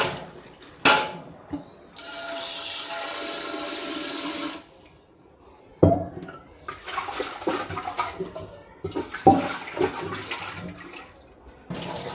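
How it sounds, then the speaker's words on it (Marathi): Water from a small copper pot runs and gushes into rice in bursts, a long steady pour in the middle, with clinks and knocks of the vessel and splashing afterward. "ह्याच्यामध्ये अर्धा तांबा एक ग्लास एवढं पाणी टाकते मी"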